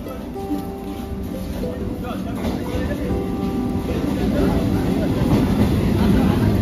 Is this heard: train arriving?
yes